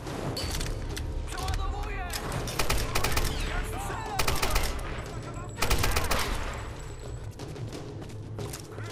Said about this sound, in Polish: Śmiesznie się strzela